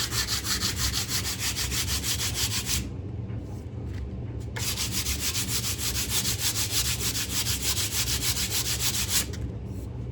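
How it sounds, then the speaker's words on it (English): Rapid, rhythmic rasping of 120-grit sandpaper scrubbing back and forth on a wood veneer guitar headstock, loud and close, with a brief lull partway through before it resumes. "I'll just try sanding that off"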